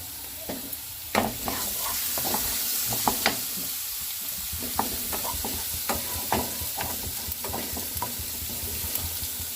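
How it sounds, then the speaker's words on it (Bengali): Chopped garlic and green chilli sizzling in hot oil in a pan for pasta: a continuous soft frying hiss with irregular spatula taps and stirring scrapes, close but fairly quiet, with no voice. "তো আমি এই তেলের মধ্যে রসুন কুচি দিয়ে দিলাম, তার মধ্যে কাঁচা লঙ্কা কুচি"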